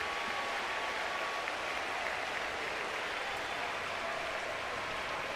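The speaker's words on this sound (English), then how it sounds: "Cheering the sac fly from Dylan Cruz" Baseball crowd at an LSU vs Kentucky college game cheering a sacrifice fly, a steady dense roar of applause and voices filling the whole stretch without letup.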